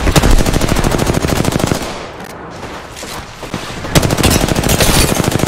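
Rapid, loud, continuous gunfire in Apex Legends, a dense burst that dips briefly in the middle and then resumes at full strength, with no talk.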